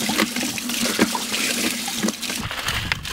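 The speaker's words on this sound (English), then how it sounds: "the same handle that pumps the water also rocks the rocker" Water hand-pumped through a Gold Grabber rocker classifier loaded with gravel: a continuous splashing gush with rhythmic surges about once a second as the handle strokes.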